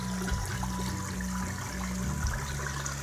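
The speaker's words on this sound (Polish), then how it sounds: "Taki oto urokliwy strumyczek się trafił z wieloma wodospadami." A small picturesque stream tumbling over many little waterfalls, a steady close rush and trickle of water running continuously with no voices.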